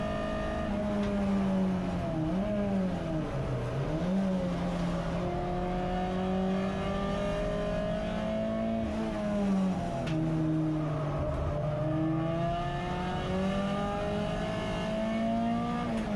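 A touring race car in a Tin Tops race at Silverstone drives on track, its engine droning loudly and steadily close up, pitch dipping and climbing as it shifts gear and pulls out of corners.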